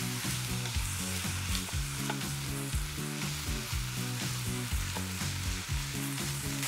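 Pork browns in a pot as it is stirred, with a loud, steady sizzle of frying meat running continuously beneath repeated stirring sounds.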